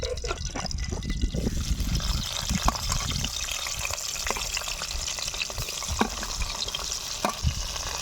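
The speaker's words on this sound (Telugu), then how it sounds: "టమాటా ఎర్రగడ్డ వేయిస్తా కొద్దిగా" Tomato and onion frying in a pan, a steady dense sizzle with occasional stirring scrapes and soft bubbling, close and continuous with no voices.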